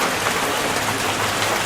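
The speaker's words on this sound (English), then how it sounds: "It's been raining for about a day and a half straight" Heavy rain pouring down during a flood in Sampaloc, Manila, a loud, steady wash of falling water with no pauses.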